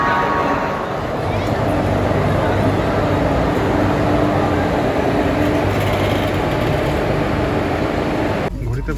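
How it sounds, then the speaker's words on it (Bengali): A delayed train rolls into platform 19 at a station, a steady, loud, broad rumble of wheels and carriages that holds unbroken for about eight and a half seconds before it shifts abruptly near the end. "ট্রেন এখন প্ল্যাটফর্ম নাম্বার 19-এ ঢুকছে"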